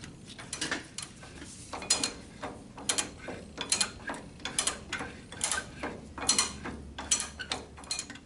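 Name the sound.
tightening nut and lock washer on steering seal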